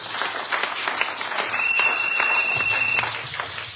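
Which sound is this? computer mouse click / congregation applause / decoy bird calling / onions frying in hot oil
congregation applause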